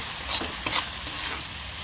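A black chickpea curry sizzles in hot oil in a pan, with a couple of quick scraping stirs over a steady close frying hiss.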